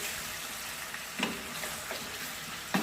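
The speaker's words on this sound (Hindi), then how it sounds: "इसको 2 से 3 मिनट के लिए फ्राई करते हैं।" Chicken fries in a karahi pan for Shinwari karahi, a dense, continuous sizzle with a couple of brief louder spits and crackles; no voices.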